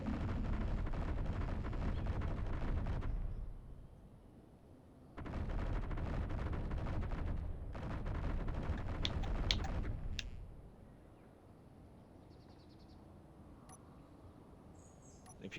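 Custom turret guns firing in the Space Engineers video game on Xbox: heavy booming bursts of fire in two or three separate rumbling volleys, broken by quieter gaps with faint background sounds.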